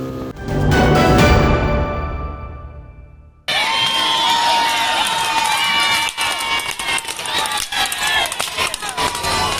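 Spectators at a street horse race in Palu roar and cheer loudly, fade briefly, then cheering and shouting resume with a busy, excited din.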